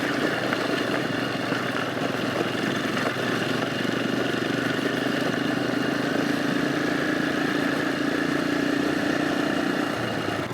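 Royal Enfield Himalayan motorcycle fitted with a 14-tooth sprocket, its single engine running steadily for the whole stretch, a constant close mechanical drone with wind buffeting and no pauses.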